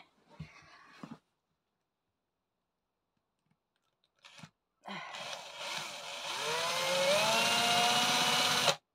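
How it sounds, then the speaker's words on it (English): A screwdriver works into a terracotta pot for a garden watering system, a few brief scrapes and knocks followed by a long, loud, close whirring grind whose pitch climbs steadily. "I've got a screwdriver. Let's get on it."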